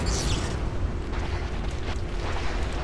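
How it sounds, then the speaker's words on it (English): Carpet bombing in the strategy game Planetary Annihilation TITANS, a steady low rumble of overlapping explosions rolling on without pause, loud and dense. "Carpet bomb them, carpet bomb them."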